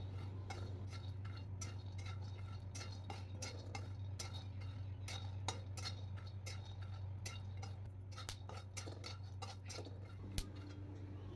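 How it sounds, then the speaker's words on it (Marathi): Peanuts are stir-roasted in a pan over a low flame, a spoon scraping and clicking against the metal in irregular light taps over a steady low hum, quiet and close with no talking. "शेंगदाणे पण तसंच मंद आचेवर परतून भाजून घ्यायचे आहे"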